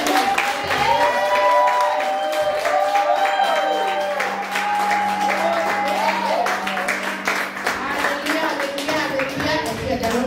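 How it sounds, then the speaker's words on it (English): A church congregation breaks into loud, sustained applause and cheering, a dense and continuous roar of clapping under shouting voices, with a steady low hum running underneath. "first we give a loud applause to our King and Savior"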